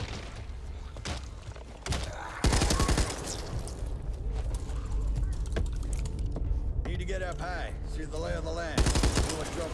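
A machine gun in the video game Back 4 Blood fires in loud, rattling automatic bursts with brief pauses, while someone talks over the shooting.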